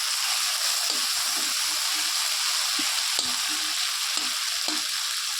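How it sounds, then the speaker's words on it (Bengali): Food fries gently in a pan on low heat with a steady, even sizzle, while a utensil stirs and scrapes now and then, giving soft irregular knocks over the constant hiss. "একদম হালকা হালকা ভাজতে হবে আঁচটাও কম দিয়ে যাতে পুড়েও না যায়"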